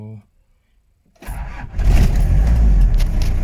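Old car engine cranks briefly after a moment of silence, then catches and starts, settling into a loud close rumbling run.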